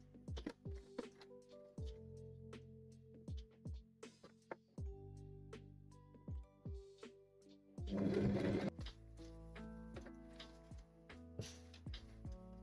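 Sewing machine stitching a tabard in bursts of rapid needle clatter separated by short pauses, with one louder, denser run in the middle; close and fairly quiet, no talking.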